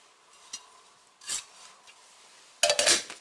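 A thick gauge steel camping pan and lid are handled, giving a few short metallic clinks and scrapes, with a louder clattering burst at the end, close and without talk.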